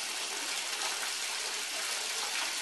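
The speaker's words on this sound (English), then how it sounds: "I'm just going to bring the water up to about the bottom" Cold water runs steadily into a tub holding a CRT picture tube, a constant close hiss of gushing tap water with no pauses or voices.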